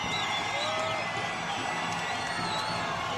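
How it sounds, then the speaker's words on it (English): Arena crowd cheering for fighter Gina Carano before her bout with Rosi Sexton, a dense sustained roar of voices and whoops with scattered whistles, steady and loud throughout. "the crowd loves Gina Carano"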